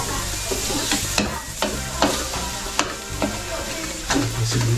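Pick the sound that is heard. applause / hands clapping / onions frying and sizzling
onions frying and sizzling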